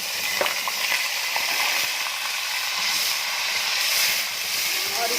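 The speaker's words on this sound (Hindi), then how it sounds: "तो अब हम इसमें डालते हैं प्याज" Finely chopped onions frying in hot oil for a Chinese daal mash chicken dish, a steady broadband sizzle and hiss with small crackles, close and continuous throughout.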